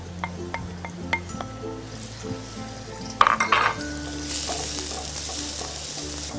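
Finely chopped onions hit hot oil with a clatter, and a loud steady sizzle follows, rising over soft background music that plays throughout.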